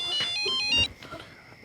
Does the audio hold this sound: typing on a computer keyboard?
no